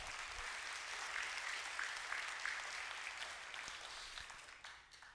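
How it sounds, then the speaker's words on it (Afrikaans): An audience claps hands for a child showing a small bunny she made, a steady moderate clapping that slowly thins and fades toward the end. "Geef haar 'n hande klap."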